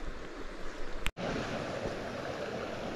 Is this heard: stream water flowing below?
yes